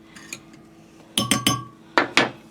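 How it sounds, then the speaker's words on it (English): A fork clinks against a dish in a few quick, sharp taps, first in a cluster of three and then a pair, while vanilla is mixed into milk and cream in a home kitchen. "I want to take my vanilla and mix it into my milk and cream"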